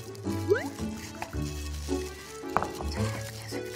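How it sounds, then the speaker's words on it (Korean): Kimchi is squeezed firmly by hand, giving wet squishing and dripping of liquid in several close bursts, with a voice talking intermittently. "꼭 짜세요. 이렇게 짜신 다음에 여기다 넣고요."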